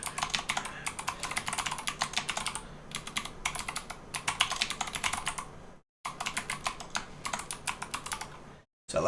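Steady, rapid keystrokes on a computer keyboard while a passphrase is entered, close and clear, in bursts with two brief pauses and no talking.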